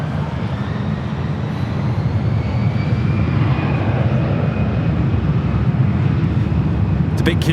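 A jet airliner on final approach to runway 24 Right at Los Angeles International Airport, a steady loud engine roar that holds evenly throughout with no pause, heard from close by.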